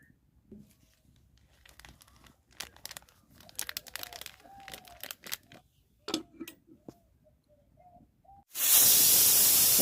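A pressure cooker of spiced meat curry: quiet kitchen clatter and faint clicks, then near the end a sudden loud, steady rush of steam hissing from the whistle that continues to the finish.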